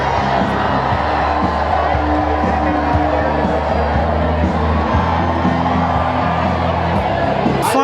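A large crowd at an outdoor grassroots rally for President Obama roars and cheers without pause, a dense wall of shouts and whoops that stays loud and close the whole time.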